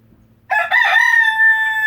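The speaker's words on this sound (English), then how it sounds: "ignore that rooster there" A rooster gives a single long crow, close and clear, with nothing else in the background.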